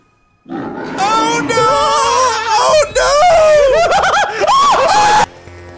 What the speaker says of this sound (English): Oh, he's screaming!